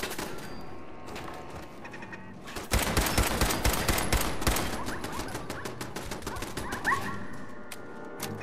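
Companion dog Dogmeat barks amid rapid gunfire in the video game Fallout 4, a dense loud stretch of shots and explosions with barking mixed in, continuing through the clip.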